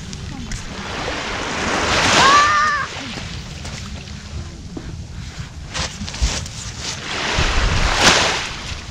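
Waves rolling and washing up onto a shore in Nagaev Bay, Magadan, in October, with surging swells, foam and wind noise; a brief voice is heard in between.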